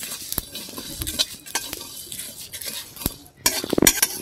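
Panch phoron spices are dropped into hot oil in a pan. A light crackling sizzle runs beneath repeated scraping clinks of a metal spoon stirring, with a louder burst of clatter near the end.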